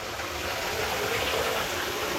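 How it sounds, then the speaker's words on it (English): Water gushing steadily into a tub being filled to wash a climbing rope, a loud, close, continuous rush with no talk. "so we've almost got it filled, and as you can see, the water's starting to get a little foggy again"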